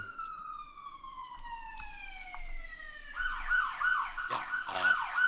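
Wailing emergency sirens sound outside in the background, several overlapping tones sweeping downward, then rising into louder warbling wails as they draw nearer.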